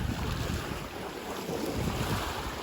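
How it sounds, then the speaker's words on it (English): Strong wind gusting outdoors at a lakeside state park campsite, roaring as steady broadband buffeting and microphone wind noise for the whole stretch, with rough water lapping beneath and no talking. "it's very windy today"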